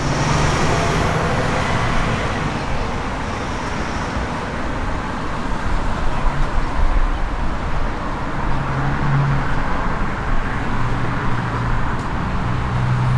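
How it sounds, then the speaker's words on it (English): Street traffic rolls past in Kaimuki, Honolulu, including the Waikiki trolley bus, a continuous roadway rumble with passing vehicle swells and occasional brief engine tones, moderately loud and without talk. "And a touristy bus, the Waikiki trolley."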